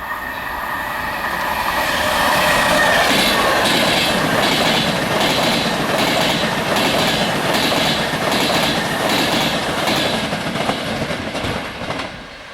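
A Hornby Virgin Pendolino Class 390 model train runs close by on its track with a steady, rhythmic clickety-clack and a rushing rolling hum, and no one speaks.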